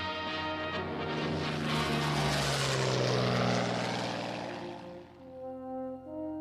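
A Hawker Hurricane fighter plane flies with a loud, steady propeller engine drone that swells and holds for several seconds, then eases slightly, with no voices.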